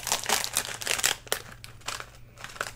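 A spicy Mamee Monster snack noodle packet is cut open with scissors, giving a run of close, bright plastic crinkling and rustling bursts with a sharp snip partway through.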